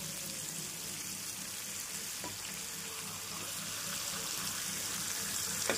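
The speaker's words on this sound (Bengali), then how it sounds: "এই দেখো মাছগুলো এক পাশ কিন্তু মোটামুটি একটু ভাজা হয়েছে। আমরা এবার উল্টে দেব মাছগুলোকে।" Pomfret pieces rubbed with poppy-seed and mustard spice frying in a pan before being turned over, a continuous soft, even sizzle close by with faint clinks and no talking.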